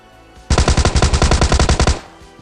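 Rapid automatic gunfire from a rifle in the mobile battle-royale game PUBG Mobile Lite, a loud unbroken burst of about fifteen evenly spaced shots lasting around one and a half seconds, alone with no talk.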